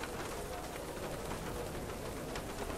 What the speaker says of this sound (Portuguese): E é chuva pesada